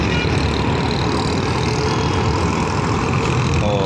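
Dense road traffic rumbles steadily below the Korangi Crossing flyover in Karachi. Engines and tyres blend into a loud, continuous wash of noise.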